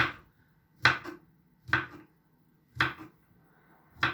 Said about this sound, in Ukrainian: Так, нарізаємо соломочкою чи соломкою.